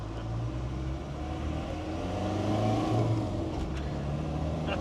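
A Land Rover 300 Tdi diesel engine pulls along the road under light throttle, its low drone rising and falling gently, heard fairly faint from inside the vehicle.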